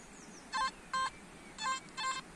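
Four short electronic beeps from a metal detector signalling a coin-like target sound in an uneven sequence, each a brief bright tone, close and clear over a faint background with no speech.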